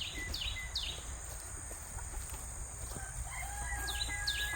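Birds chirp and clucking fowl sound over a steady low outdoor rumble, with a few sweeping whistled calls near the start and end.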